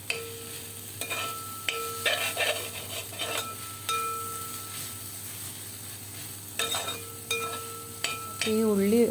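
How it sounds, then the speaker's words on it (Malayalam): Sliced onions frying in a pan for chicken curry give a soft continuous sizzle, broken by close scraping stirs and clinks of a spoon against the pan, with brief hums near the end. "ഈ ഉള്ളി വഴളുന്നതിൻ്റെ ഇടയിൽ തന്നെ ഞാൻ ചിക്കനും കൂടെ കഴുകിയെടുക്കുന്നുണ്ട്"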